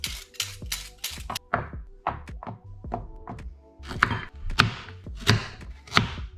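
Carrots chopped on a cutting board: a run of crisp knife thunks, quick at first, then slower and spaced, close and distinct with no talk.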